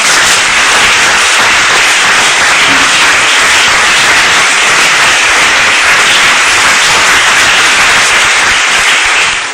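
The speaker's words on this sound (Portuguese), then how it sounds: "uma salva de palmas para Jesus?" A church congregation at a Bible study breaks into loud, sustained applause, a thick unbroken roar of many hands clapping at once that fills the room for the whole stretch.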